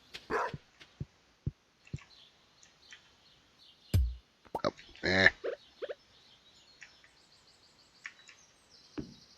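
A dog barks in the farming video game Stardew Valley, a few short, sharp game-sound yips spaced out near the start, with a louder burst midway and one more near the end, set against quiet background game audio.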